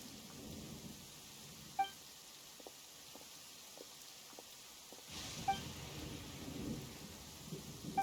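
Thunder from the Enchanted Tales of the Mikawa Festival game event, a deep low rumble rolling under steady rain patter, dropping away briefly then swelling back loud with sharp peaks, no talking.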